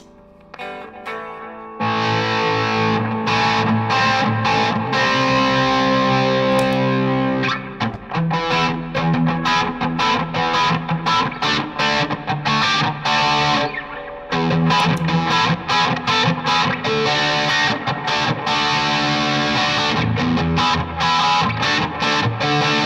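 An electric guitar plays through a Teisco distortion pedal, loud and gritty with sustained chords and choppy strummed passages running continuously throughout, up close and without talk.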